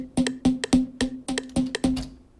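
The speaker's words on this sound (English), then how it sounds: "it's this vital pluck" Vital synthesizer pluck notes, each a short bright attack with a steady pitched tone beneath, repeating in a quick syncopated rhythm of about ten hits over two and a half seconds, clean and close with no voices.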